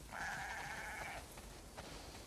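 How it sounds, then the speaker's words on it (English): A single sheep in the video game The Last of Us Part II bleats once, a wavering nasal call lasting about a second, followed by faint quiet background. "We definitely have way too many sheep"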